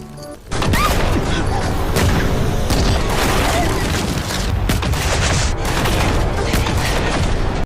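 Heavy booming blasts and crackling gunfire roar continuously, loud and close, like cannon fire in the middle of a battle.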